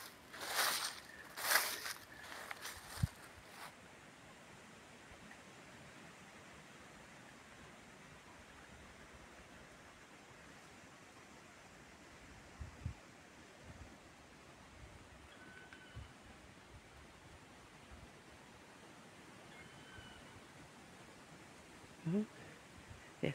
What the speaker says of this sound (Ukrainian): і вітер у верхів'ї шелестить.